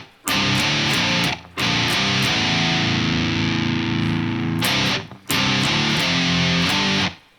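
A heavily distorted electric guitar plays a riff, played loud and close in dense chugging bursts with two brief gaps, with no talking.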